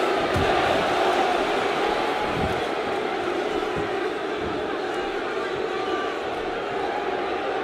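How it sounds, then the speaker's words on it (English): Arena crowd in the WWE 2K17 video game buzzing during a Royal Rumble match, a steady dense murmur of cheering spectators with a few brief thumps from the ring, continuous throughout. "The crowd is buzzing."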